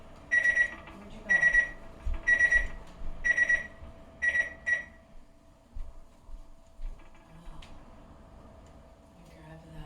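A kitchen timer set for dandelion tea beeps in about six short bursts of rapid electronic tones, then stops, with a person speaking quietly nearby.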